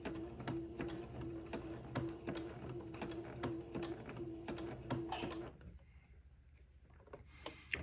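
A sewing machine works a zigzag stitch with a steady, rhythmic ticking beat close by, the needle rhythm running for several seconds before stopping and leaving a quieter room.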